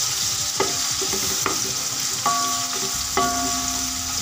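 Onions fry in a cup of cooking oil in a pot for pulao, giving a steady loud hiss with a few metallic scrapes and clinks of a spoon stirring, and no voices.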